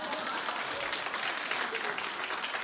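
Studio audience at a daytime talk show clapping together, a dense continuous burst of hands heard up close with no talk over it.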